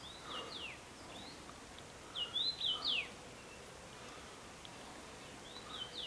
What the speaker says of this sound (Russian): Пищат птички,